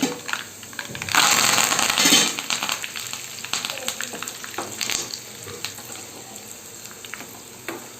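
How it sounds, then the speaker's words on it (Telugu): Garlic and curry leaves frying in hot oil in a pan for mango dal tempering: a loud burst of sizzling when the leaves go in, then a steadier crackle with occasional pops and stirring scrapes. "మనం ఈ స్టేజ్లో కరివేపాకు యాడ్ చేస్తున్నాం"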